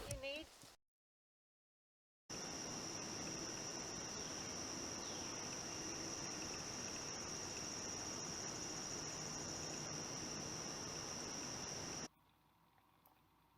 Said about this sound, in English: Stridulating crickets scrape their upper wings over comb-like ridges